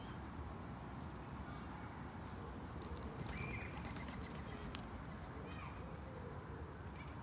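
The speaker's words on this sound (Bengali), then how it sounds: "কবুতর দুইটা ঝগড়া করে দেখো খাবার নিয়ে" Pigeons squabbling over food beside ducks outdoors, with soft, low cooing buried in a steady, noisy ambient wash that runs throughout.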